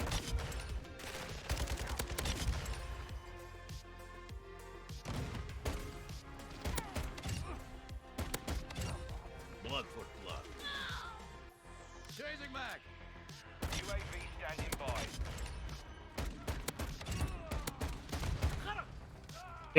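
Gunfire from a .50 GS pistol in Call of Duty MW2: repeated sharp shots scattered through a busy match, mixed with other game effects and someone talking over the action.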